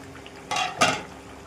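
A metal lid lifted off a pot of simmering fish curry, two quick clinks and a scrape in close succession, brief and fairly quiet.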